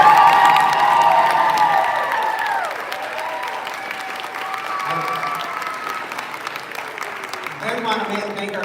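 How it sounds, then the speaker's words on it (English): An audience at an elementary school event applauds loudly and steadily, with crowd noise and some cheering mixed in. The clapping gradually settles while voices and tonal sounds carry on over it. "Let's give a round of applause to these amazing guys."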